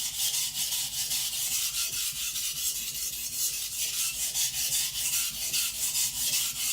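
A custom Patrik Carlvik steel nakiri knife being ground on a 220 grit whetstone, with rhythmic back-and-forth rasping strokes that are close and steady, repeating several times a second with no voices.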